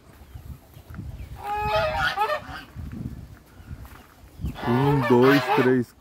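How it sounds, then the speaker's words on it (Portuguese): Geese honk nearby in two loud bursts of nasal calls, with low murmuring voices and rustling in the background. "Escutei barulho dos gansos ali."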